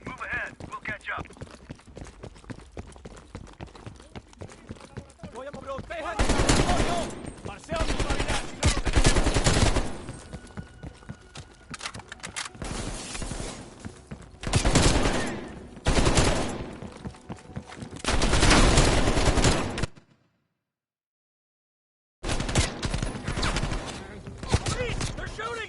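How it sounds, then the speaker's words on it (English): Bursts of heavy gunfire in the Call of Duty Cold War campaign, repeated loud volleys and rapid automatic fire in clusters with brief gaps and one silent break, voices shouting between the shooting. "They're shooting at us!"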